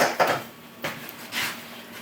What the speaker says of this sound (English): Put our dishes to the side.